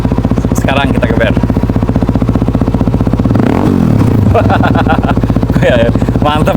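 QJ Tourino 250DX motorcycle fitted with an Enzo Performance Adventure exhaust, heard close up with a low pulsing engine note that swells into a loud rev around the middle, while people talk over it at times.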